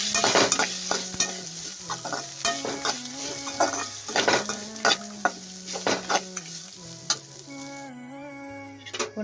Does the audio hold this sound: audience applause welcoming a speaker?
no